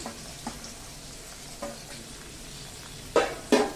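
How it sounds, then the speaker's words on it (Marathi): Red pumpkin pieces frying in a pan with turmeric, a steady soft sizzle under occasional stirring scrapes, ending in two sharper, louder clatters. "आणि नंतर या डांगराच्या फोडी आपण याच्यामध्ये घालून घेऊया"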